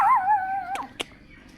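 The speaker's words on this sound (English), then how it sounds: "There's a little doggy." A small three-legged dog at a floating restaurant in Vung Ro whines in a high, wavering whimper that slides downward, followed by a couple of sharp clicks and then quiet.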